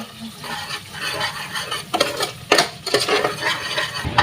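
Spiced kaleji (goat liver) curry with tomato purée and coconut-whole-spice paste being stirred in a pan, steady scraping and clinking of a spoon against metal, with louder scrapes near the end and a soft sizzle underneath.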